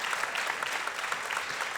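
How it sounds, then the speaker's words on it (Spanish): A church congregation applauds at a sermon, with steady, moderately loud clapping throughout and no talking. "¿Quién le aplaude a Dios en este momento así fuerte"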